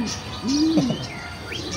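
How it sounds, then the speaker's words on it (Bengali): A pigeon gives a single soft coo at close range amid a pigeon selection setting, a brief rising-falling call over a low background hum. "ওই যে পায়রা"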